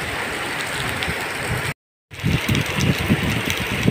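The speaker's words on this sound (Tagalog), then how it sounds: "Yun guys, sobrang lakas ng ulan." Heavy rain falls in a dense, constant wash of hiss and splatter, cut by a brief silent gap partway through before resuming just as strong and close.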